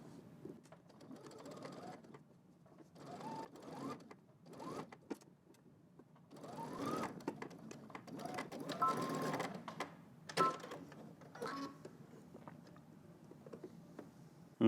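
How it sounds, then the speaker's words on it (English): A sewing machine edge stitching along a folded seam, its motor running in several bursts of rapid stitching with short pauses between, close and steady. "So now we're just going to stitch right down the edge"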